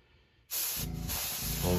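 An airbrush sprays paint onto a swim bait, a sudden steady hiss starting after a brief quiet moment and continuing close and loud.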